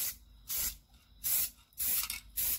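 Red spray paint hisses from an aerosol can onto old dumbbells in a garage, in four short, close bursts separated by pauses.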